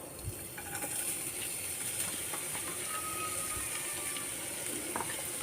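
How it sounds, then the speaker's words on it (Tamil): Coconut pieces fry in hot oil in a pan for poorana kozhukattai, giving a steady, even hiss with faint crackles and light scraping, fairly quiet and alone without talk. "தேங்காயை கொஞ்சம் நல்லா வறுத்துக்கிடுவோம்."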